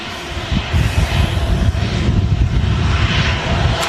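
A Jet2 Boeing 757 airliner coming in to land at Manchester Airport in a crosswind, a loud, continuous broadband engine roar that swells and holds steady with no talk.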